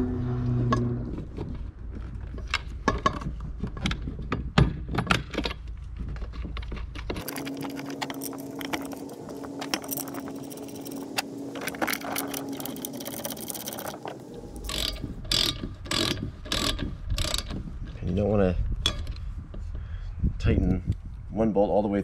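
A wrench ratchets in quick clicking runs while the bolts on a Sta-Rite Dura-Glas pool pump motor are tightened, close by, with someone talking over much of it.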